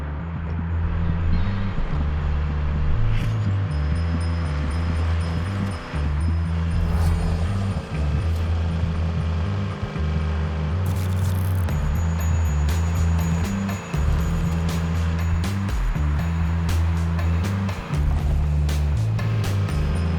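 Racing vehicles in the PS5 video game Heading Out give a steady, loud engine drone with a rhythmic, pulsing low rumble, joined by brief sharp bursts partway through and no speech.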